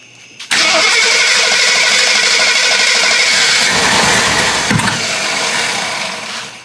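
An old Jeep left sitting for 25 years cranks suddenly into a loud, continuous whirring start attempt, a close harsh mechanical drone that holds steady for several seconds before easing slightly, with no voices.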